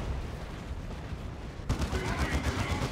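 Psy Cannons fire in the video game Dawn of War 2: Retribution, making dense rapid booming blasts that thicken sharply partway through amid a continuous wash of battle noise.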